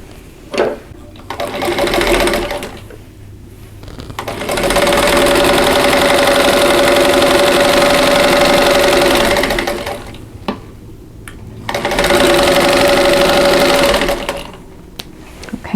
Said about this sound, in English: and then I'm going to stitch that down.